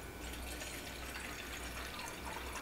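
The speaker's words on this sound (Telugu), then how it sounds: "సో ఇక్కడ మనం ఈ డ్రింక్ని ప్రిపేర్ చేసుకోవడానికి ఒక హీటింగ్ ప్యాన్ మనం తీసుకుని అందులో 1 గ్లాస్ వాటర్ యాడ్ చేసుకోవాలి" A glass of water is poured into a heating pan in a home kitchen, making a continuous splashing, gurgling fill that stays close and steady throughout, with no talk.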